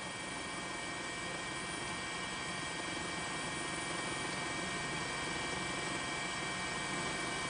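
A helicopter's steady, dense rotor and engine roar fills the whole stretch, loud and constant with no pauses, flying over Sendai Airport in Miyagi Prefecture, Japan, after the tsunami.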